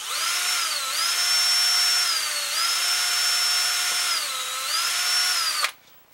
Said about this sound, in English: we're going to do the same thing and drill straight in the body here.